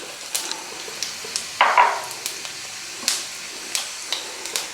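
Cumin seeds sizzling in hot oil for a Telangana-style pumpkin curry, a steady soft frying hiss with scattered small crackles and a brief louder burst of sizzle near the middle.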